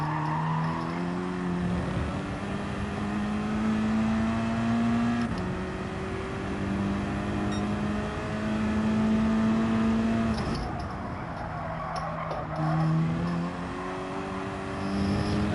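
Race car engine droning steadily through corners in Gran Turismo 7, harmonic pitch rising and falling with throttle and gear changes, with light tyre squeal, close and continuous, no talk.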